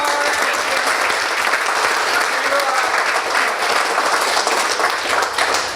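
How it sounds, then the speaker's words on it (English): Wedding reception guests break into steady, sustained applause, a dense wash of many hands clapping at once with cheering faintly mixed in, continuing evenly throughout. "let's also just give a round of applause for everybody that's helped leading up to this day"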